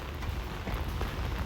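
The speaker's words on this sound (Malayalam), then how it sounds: "കുറേ കാലമായി ഇങ്ങനൊരു മഴ കണ്ടിട്ട്." Heavy rain pours steadily in a dense, unbroken hiss, loud and close, with no voices.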